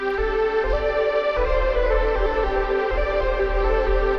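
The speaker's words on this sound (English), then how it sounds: "for my third instrument, I'm gonna be using this lead sound called Boards of Zelina" A full, sustained synth lead from the Boards of Zelina preset in Analog Lab plays alone, rich harmonics over a steady low pulsing bass layer that swells and dips in a slow rhythm for a few seconds.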